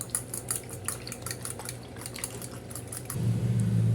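Eggs being beaten in a bowl with chilli, salt, carrot and onion, a quick run of light rhythmic clinks and sloshes, close and fairly quiet, followed by a low steady hum toward the end.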